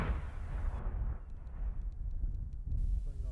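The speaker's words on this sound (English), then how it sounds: "This mortar landed soon after we arrived." A mortar shell lands and explodes on a Peshmerga front line, a deep heavy boom rolling out at a distance with a low rumbling tail under wind.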